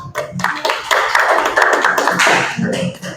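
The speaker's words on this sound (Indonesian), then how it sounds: "Kalau nggak ada, beri tepuk tangan untuk kelompok 6." Students in a classroom clap for a group that has just finished presenting, a brief dense burst of hand claps lasting a few seconds.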